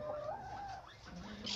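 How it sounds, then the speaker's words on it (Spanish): Chickens cluck and murmur softly at close range on a small farm with birds, giving a few short calls and a rising note over a quiet background. "Ahí tenemos gallinas, todas las gallinas."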